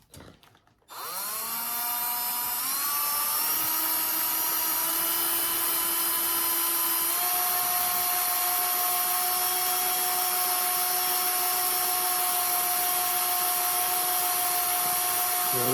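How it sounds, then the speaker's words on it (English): A power drill boring a screw hole into a Glock 19 holster runs as a loud, steady whine that spins up after a quiet start and holds close and continuous, its pitch shifting slightly partway through. "All right, so we got our drill. And now what I'm going to do is I'm going to sink one hole first."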